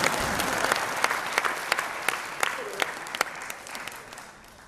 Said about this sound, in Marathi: आमच्या भावी महिलांनी तरी टाळ्या वाजवा त्यांच्याकरता